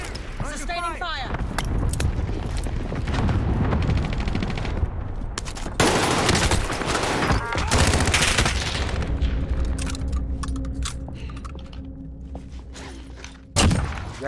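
Call of Duty Warzone gameplay is full of bursts of automatic gunfire, sharp shots and thuds, loud and close, with people talking over the shooting throughout.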